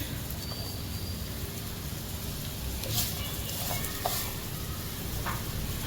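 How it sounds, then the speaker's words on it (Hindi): Chopped onions sauté in a pan for a kachori filling, giving a steady close sizzle with a few scraping stirs and clinks over the frying hiss. "अनियंस डालते के साथ ही ज़रा सा हम सौते करेंगे।"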